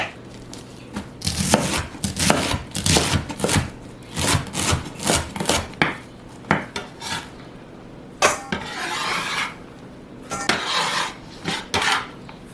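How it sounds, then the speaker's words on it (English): A knife cuts red cabbage into thin slices on a cutting board, giving a run of crisp, close crunching strokes in quick bursts, with a short scraping pause partway through. "Then slice that red cabbage up nice and thin."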